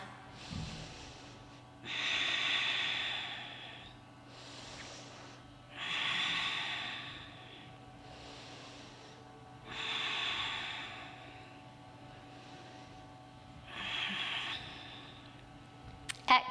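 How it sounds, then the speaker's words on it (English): Deep, slow breathing during a stretch in a workout, with four long, audible exhales spaced evenly every few seconds over quiet background music. "Breathing here 3 more times."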